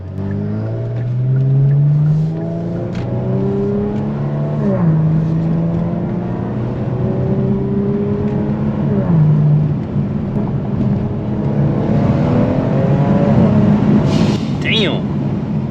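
A Kia Stinger's turbo engine with catless downpipes revs and drops through several downshifts, loud and raspy with crackling exhaust, heard from inside the car over continuous road noise.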